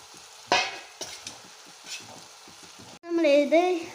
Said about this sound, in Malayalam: നമ്മൾ നല്ലോണം ഒന്ന് ഇളക്കിയെടുക്കണം